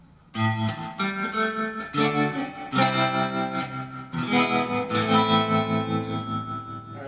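Electric guitar chords ring out through spring reverb from a Surfybear Reverb Classic or '64 Fender Reverb Unit with a pulsing tremolo wobble, played steadily and loud with no voices.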